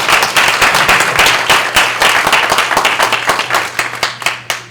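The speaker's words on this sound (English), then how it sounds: "Big round of applause for Brian." Clapping rings out for a presenter at a music-industry PR workshop in Taiwan. Individual claps sound close and crisp in a brisk, uneven stream that thins toward the end, over a low steady hum.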